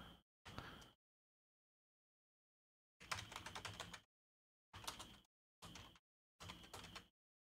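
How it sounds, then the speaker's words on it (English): Bursts of typing on a computer keyboard, several short runs of rapid clicking separated by silence, fairly close and clear with no talking. "I'm typing something right now,"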